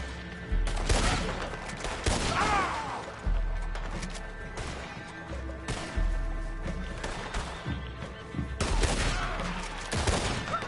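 Shootout in Red Dead Redemption II: repeated loud gunshots in bursts, sharp cracks with echoing tails, some overlapping rapid volleys spread across the whole stretch.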